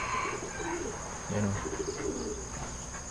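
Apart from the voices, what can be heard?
bird cooing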